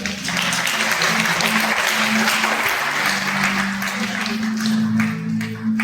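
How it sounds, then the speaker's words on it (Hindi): A congregation claps loudly during a Hindi church sermon, sustained dense applause that stays even throughout, with a voice and a low musical tone running underneath. "एक बार जोरदार ताली परमेश्वर"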